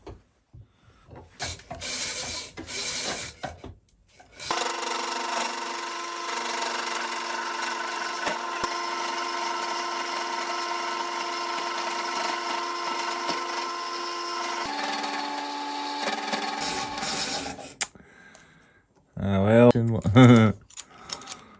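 A mini lathe cuts a dovetail on its cross slide, giving a steady harmonic whine with grinding chatter for about thirteen seconds, framed by brief handling clatter before and after.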